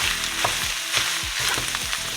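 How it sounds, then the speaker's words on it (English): Tomato paste fries in a pan with a close, dense sizzle, punctuated by rhythmic scraping strokes of a spoon stirring it about every half second. "Cook the tomato paste for 2 to 3 minutes so that it caramelizes and deepens in flavor"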